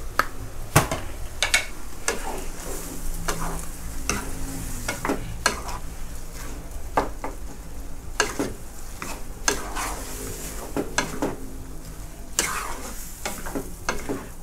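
Luffa gourd being stir-fried in a pan with sauce and sugar, steady sizzling crackle under repeated sharp metallic spatula clacks and scrapes in an uneven rhythm, close and clear with no talking.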